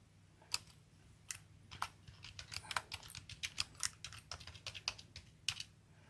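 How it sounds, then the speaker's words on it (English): Typing on a computer keyboard, a rapid irregular run of sharp key clicks close by, busier in the second half, over a faint low hum with no voices. "I'm just typing some stuff here"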